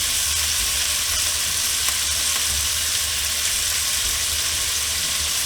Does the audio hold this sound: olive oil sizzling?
yes